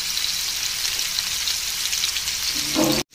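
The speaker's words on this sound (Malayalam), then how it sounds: "ഇത് തിരിച്ചും മറിച്ചും ഇട്ട് നന്നായിട്ട് ഫ്രൈ ചെയ്തെടുക്കണം" Fish pieces shallow-frying in a pan for a fish biryani produce a steady, hissing close-up sizzle like light rain, with a few knocks of a utensil near the end before a sudden cut.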